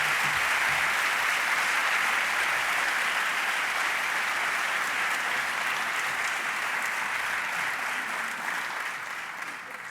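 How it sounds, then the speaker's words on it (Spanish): Sustained applause from an audience at a Spanish economics conference session, dense and steady for the full stretch, tapering slightly near the end. "Un fuerte aplauso para él."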